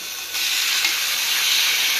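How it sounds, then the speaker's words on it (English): A small piece of chicken hits a hot pan and breaks into a loud, steady sizzle, a bright crackling hiss that jumps up suddenly and holds close and continuous. "And we'll test just one little piece of chicken, and there's the sizzle."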